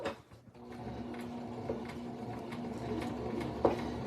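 A Singer Start 1304 sewing machine stitches with a steady, soft mechanical whir and hum at close range, ending on a brief sharp click, with no voices.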